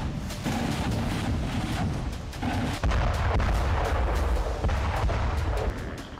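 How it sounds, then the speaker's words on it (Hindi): Artillery fire in the Ukraine war comes through as a series of heavy booms and sharp reports, some distant and some closer. They roll over constant rumbling wind noise, and no voices are heard. "रूस आर्टिलरी से घेर कर हमले कर रहा है"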